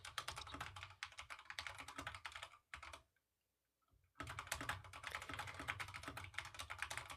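Rapid clicking keystrokes rattle on a computer keyboard, close and continuous, broken by a brief pause of about a second before the dense typing resumes.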